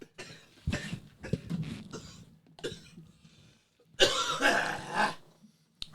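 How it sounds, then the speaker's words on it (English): Several sharp coughs and throat-clearing bursts, close and fairly loud, spaced irregularly, ending with a longer harsh coughing fit. "There is so much coughing on this episode"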